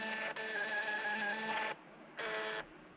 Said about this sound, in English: this is a Fonamo Bluetooth printer that my phone is connected to. It works on heat, there's no actual ink in there.